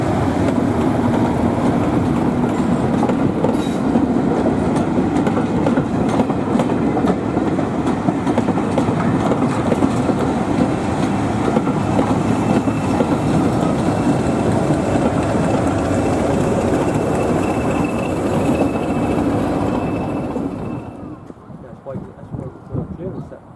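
Class 37 diesel locomotive 37714 'Cardiff Canton', with an English Electric 12SVT engine, runs on a heritage railway into Quorn and Woodhouse. Its loud, steady engine roar and rumble of the train continue for about twenty seconds, then fade away.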